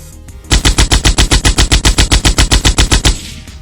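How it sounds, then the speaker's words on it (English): Rapid automatic gunfire sound effect from a 1:18 scale Joy Toy paratrooper figure's gun, about twenty evenly spaced loud bursts in a steady burst lasting around three seconds, close and clear with no talk. "I'll let him squeeze off a couple rounds."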